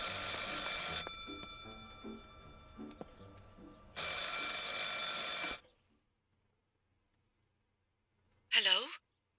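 A telephone rings in the video game Martha is Dead, a loud bright bell trill that repeats in bursts over soft background sounds before cutting to silence and a brief tonal blip.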